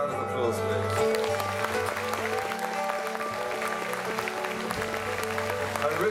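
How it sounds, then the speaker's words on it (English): Audience applause at the closing set at Abbotsbury in 2019 rolls beneath sustained musical tones and a voice, the clapping a diffuse, steady texture behind the held notes. "give them a round of applause"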